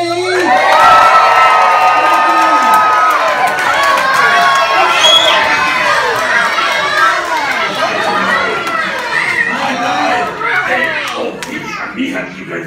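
A large audience of children at a Sesame Street premiere event in New York City cheers and screams loudly, a dense, sustained roar of young voices that fades slightly toward the end.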